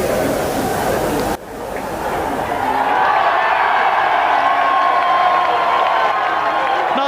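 A large British crowd cheers and whoops at the 1991 British Grand Prix at Silverstone for Nigel Mansell, a loud, sustained roar of distant voices and applause that swells after a brief dip.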